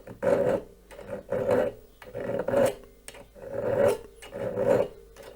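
A half-round file rasps across the metal frame of a Hornby Black 5 model locomotive, making about five or six steady back-and-forth strokes, each a close, gritty scrape separated by short pauses.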